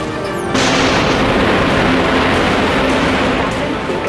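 Torpedoes launched from a warship in the game Dreadnought: a sudden loud whooshing rush bursts in and holds as a dense, roaring wash with a faint tonal whine beneath, no voices.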